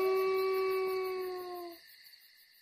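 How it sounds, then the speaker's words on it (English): A wolf gives a single long, sad howl in a story sound effect, a steady tone with clear harmonics that holds and then cuts off, loud and alone. "Then he sat down and howled. It was a sad howl."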